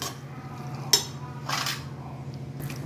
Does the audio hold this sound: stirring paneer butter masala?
yes